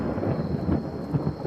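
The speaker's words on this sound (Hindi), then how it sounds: "तभी बिजली कड़कती है" Rumbling cartoon thunder clap with a rainstorm hiss, a loud sustained low roll filling the whole moment, no voices.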